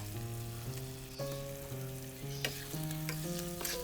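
Chicken frying in a pan for ayam rica rica, stirred with scraping spoon strokes over a steady sizzle and a sustained background tone, no talking.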